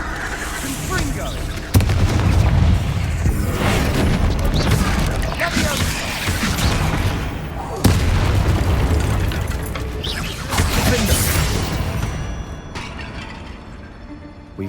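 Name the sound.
Confringo spell explosion in a video game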